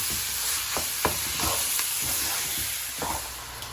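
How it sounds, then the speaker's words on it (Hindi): Chicken keema is stirred in a hot frying pan, with a continuous sizzle broken by several sharp scraping strokes of the spoon against the pan, close and fairly loud. "Right, mix that in really well now."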